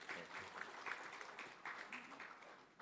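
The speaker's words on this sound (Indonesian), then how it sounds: "Tepuk tangan untuk beliau" An audience claps at a university senate ceremony, with quiet, steady applause at a distance that stays even throughout.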